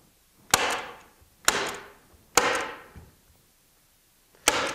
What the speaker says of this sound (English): With a staple gun.